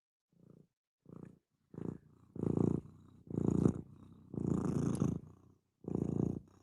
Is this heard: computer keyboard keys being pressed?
no